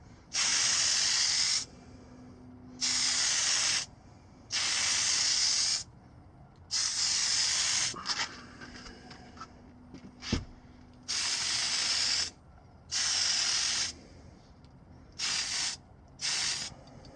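Spray paint hisses onto an HJC CL-17 motorcycle helmet in repeated bursts of one to two seconds, each loud and close, with short quiet gaps between them and one sharp knock partway through.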